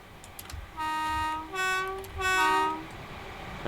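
Class 313 electric train on the West Coastway in Train Simulator Classic, sounding a two-tone horn in three blasts of rising length, loud and close, over low rolling rail noise.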